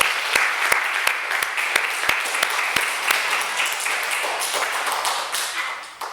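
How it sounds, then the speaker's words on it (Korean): A church congregation claps together in sustained applause to give glory to God during a Thanksgiving service, steady and full with a few sharp louder claps standing out near the start. "우리 하나님께 영광의 박수 한번 드립시다"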